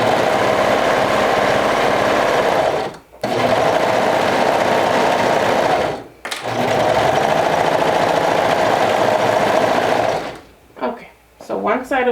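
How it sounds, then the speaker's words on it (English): A serger overlocking the seams of a skirt runs in steady, loud continuous bursts with two brief pauses, then stops near the end. "And it's all done with the serger."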